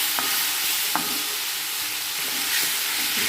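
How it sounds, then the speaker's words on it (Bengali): Radish fries in a pan with a steady, dense sizzle that fills the whole stretch, broken by a couple of faint taps of a spatula stirring. "মূলোটা প্রায় হয়ে এসেছে, আরেকটু ভেজে তুলে নেব"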